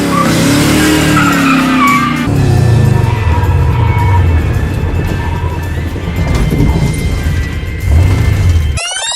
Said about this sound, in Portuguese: Temos imagens do Dart duas portas acelerando na quarta volta rápida da história dos acelerados